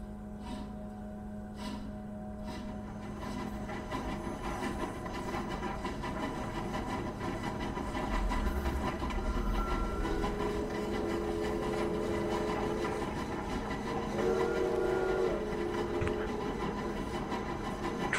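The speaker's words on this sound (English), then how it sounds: "I also learned this wheel starts the entire train" Train running in the video game Industria: a low, continuous engine rumble and mechanical hum with some tonal whine rising in the middle, moderately loud and steady, with no speech.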